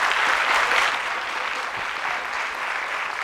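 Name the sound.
applause for Fatim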